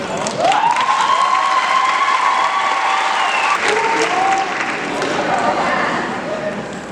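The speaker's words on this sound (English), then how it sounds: "Will our veterans please rise? And then we'll clap for them." A graduation crowd applauds veterans as they stand, steady dense clapping filling the hall with a few cheers and voices mixed in over the full length.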